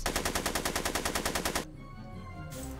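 Rapid automatic gunfire from a speakeasy shootout in Back to the Future: The Game, a loud, evenly spaced burst of about fifteen shots that cuts off abruptly, leaving a quiet tail and one more brief burst at the end.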